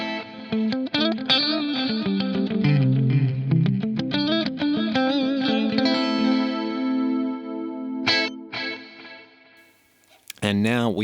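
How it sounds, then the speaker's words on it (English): Electric guitar through a Fractal AX8 with a modulated, slightly gritty delay plays a loud, busy distorted phrase whose notes smear into chorus-like repeats, then a few sparse chords ring out and fade before a final strum. "we have delays that not only sit in the mix, but they have a real musical character to them. There's some modulation, there's a bit of grit."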